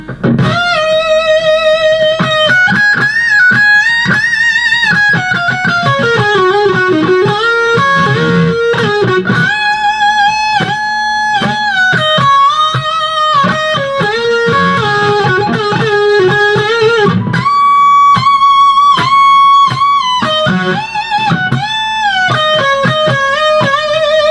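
A distorted electric guitar plays the lead solo of a song over a full band backing, with sustained bends and fast runs, loud and continuous throughout.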